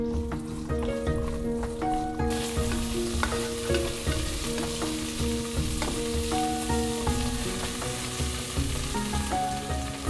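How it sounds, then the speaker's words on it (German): Green beans frying in oil in a pot for a Chinese-style bean stew, a loud continuous sizzle and crackle with steady stirring clatter throughout, no voices. "Bohnen gehen zuerst in den Topf, weil sie lange Garzeit brauchen."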